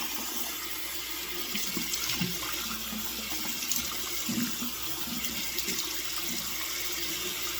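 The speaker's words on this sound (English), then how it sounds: "Check the water temperature. Make sure it's lukewarm, not hot or cold." Lukewarm water runs steadily from a tap into a bathroom sink, a constant close rushing splash with small gurgling variations and no talking.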